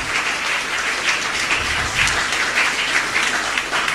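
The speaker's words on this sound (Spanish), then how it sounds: "Vamos a darle un fuerte aplauso al Padre Víctor." A church congregation at a live Mass at a chapel in Luque applauds Father Víctor in a dense, continuous wash of clapping, loud and close, with no speech on top.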